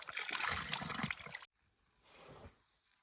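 Water trickles from a water source beside a path, a close, steady splashing rush that cuts off abruptly and gives way to a fainter, softer flow.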